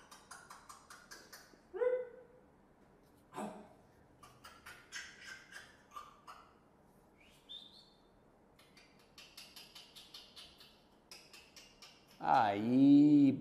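A dog being groomed gives a few short yips and whimpers, scattered and fairly close, with a louder whine near the end amid quiet handling noise.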